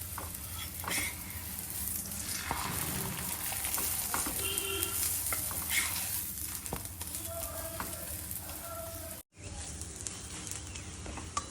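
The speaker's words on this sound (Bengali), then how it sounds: "আমি এটাতে একটু তেল দিয়ে দিয়েছি, এবার ভালোভাবে ভেজে নেব।" Aloo paratha frying in oil in a pan makes a loud, continuous close-up sizzle with a crackling texture, briefly cutting out near the end before resuming.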